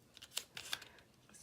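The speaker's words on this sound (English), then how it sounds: "cut off a little foam tape here" Scissors snip through foam tape in a few faint, quick crisp cuts, heard close and alone in a quiet room.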